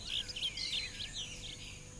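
Birds sing in the Mexican mountains, high chirps and twittering phrases layered over a soft, steady outdoor background, fairly faint and distant, with no voices.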